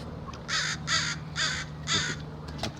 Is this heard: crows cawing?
yes